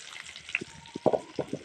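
Onion fries in a pan with ginger and garlic, giving a soft, crackling sizzle with scattered pops and small plops as the pieces land and are stirred close by.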